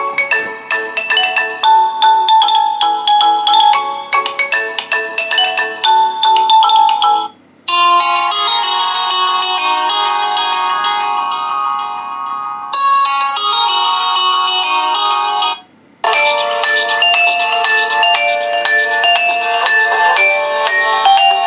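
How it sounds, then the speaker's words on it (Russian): Ringtone previews play loud and alone on a SUBOR S19 smartphone speaker, several melodic electronic tunes cut short in turn with brief silent gaps between them. "выберем рингтон"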